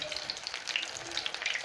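Algerian makrout frying in oil, giving a steady, close crackling sizzle with dense bubbling pops throughout and no voices.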